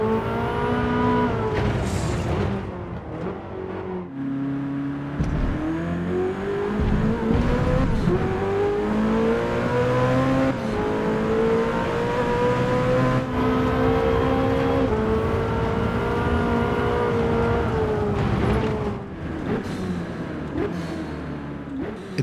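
Ferrari F8 Tributo's 3.9-liter V8 in the Forza Motorsport racing game at Laguna Seca, roaring steadily and loudly as revs rise and fall through gear changes, with brief tire squeals and no voices.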